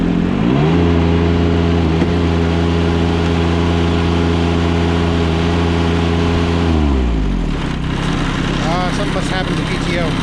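A John Deere 455 lawn tractor engine drones loud and steady with a strong harmonic hum, then dips in pitch and winds down near the end as other mechanical noise takes over.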